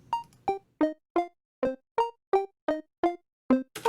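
A Serum software synth patch with flam layering: about eleven short, evenly spaced plucky notes, each with a slightly delayed second layer, clean and up close with silence between hits.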